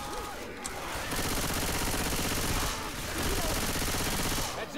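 Rapid automatic gunfire shooting zombies in Left 4 Dead 2, dense sustained bursts at close range, briefly pausing then resuming loudly, with no voices over it.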